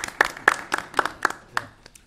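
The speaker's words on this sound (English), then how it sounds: "How about a round of applause?" A small group in a county commission meeting room gives a brief round of applause, several sharp separate claps at close range that thin out and stop after about two seconds.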